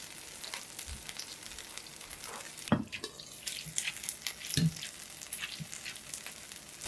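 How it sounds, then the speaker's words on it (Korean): Crumbled tofu stir-fried with onion in a pan over medium-high heat, a continuous close sizzle broken by scraping spatula strokes and a couple of sharper knocks. "두부의 수분이 없어지도록 중불 이상에서 볶아주시고"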